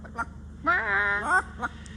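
A parrot imitates a chicken with a short squawk, then a longer rising, warbling cluck-like call and a final brief squawk, close and clear with little background.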